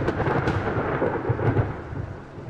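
Loud, close rumbling thunder rolls continuously through a dark horror game set in a mansion, a broad sustained roar with faint rain-like texture and no voices.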